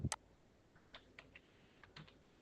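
A few light keystrokes tap on a computer keyboard, typing a short word, faint and close, spaced unevenly after a sharper click at the start, no talking.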